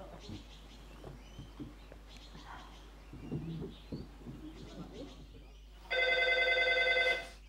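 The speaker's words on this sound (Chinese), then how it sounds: "电话响了" A telephone rings once near the end, a loud electronic trill of about a second and a half, after quiet indoor murmuring and soft voices.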